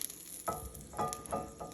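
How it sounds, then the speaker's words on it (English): Melted butter sizzles and crackles over biscuits in a hot pan, a soft steady hiss with a few sharper spits of frying at intervals. "you're gonna hear it sizzle because this pan is still hot."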